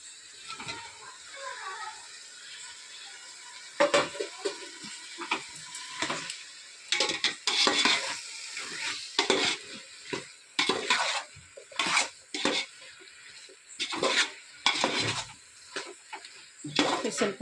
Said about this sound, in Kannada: ಸ್ವಲ್ಪ ಚೆನ್ನಾಗಿ ಎಣ್ಣೆನಲ್ಲಿ ಫ್ರೈ ಆಗಲಿ